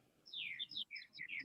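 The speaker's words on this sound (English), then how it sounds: "is those your birds we're hearing in the background?" Pet birds chirp quietly in a room during a remote meeting: a quick run of high, thin tweets and short trills that sound soft and distant, with no voices over them.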